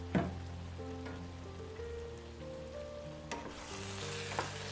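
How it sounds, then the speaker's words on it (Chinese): Shakshuka tomato sauce simmers in a covered pan, giving a quiet, steady bubbling sizzle over a low background hum, with a couple of faint clicks and no talking. "搅拌好之后，盖上盖子，继续炖煮。"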